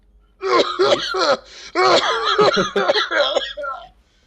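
A voice imitates a hawk coughing in a short run of raspy, hacking bursts mixed with chuckling and throat-clearing, close and fairly loud.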